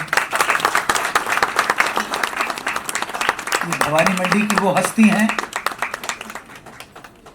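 An audience at a book launch event applauds steadily for several seconds while someone speaks over the clapping, his voice prominent in the middle before the applause thins out.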